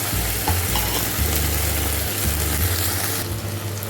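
Spices stirred in hot oil in a frying pan before bottle gourd goes in, for Bengali shukto; a loud, dense sizzle with scraping strokes over a low steady hum.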